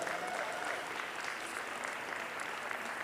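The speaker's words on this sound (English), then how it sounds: "Let's give Taylor and Lindsay a big round of applause." Audience applause at the Weber County Fair livestock show, a steady wash of clapping from a crowd, moderately loud and even throughout.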